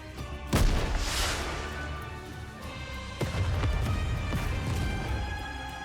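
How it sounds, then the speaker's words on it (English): A rocket launcher shell is fired and explodes in a snowfield in Goddess of Victory: NIKKE, a loud booming blast with a sharp onset followed by a second impact and a rumbling, crackling tail. "a shell flies from the rocket launcher. And a resounding explosion causes the entire snowfield to be blanketed in thick plumes of white smoke."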